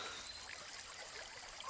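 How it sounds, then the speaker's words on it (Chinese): A rainforest stream trickles steadily with a soft, continuous watery hiss, faint and even throughout, with no voices. "这里有溪水"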